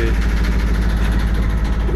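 A sailboat's inboard motor runs steadily during a sea passage to Martinique, with a loud, continuous low drone and a throbbing vibration that never lets up.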